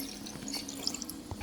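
Water from a drinks-making kitchen poured into a glass for lemonade, a short, steady trickle with faint drips, close and fairly quiet, with no talking over it.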